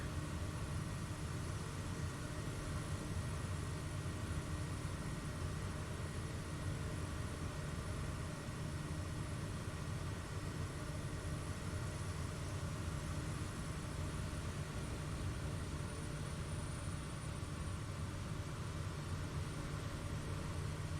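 A Cessna C-195 with a radial engine makes a continuous droning hum with a low rumble, steady and fairly distant throughout.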